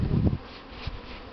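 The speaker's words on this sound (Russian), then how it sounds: "Пчелы тут нормально" Honeybees at their hives during a spring cleansing flight in the evening give a soft, continuous buzzing hum, with a louder burst close by at the start before it settles into a fainter drone.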